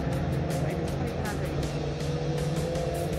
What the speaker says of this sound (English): there's some touring cars bobbing around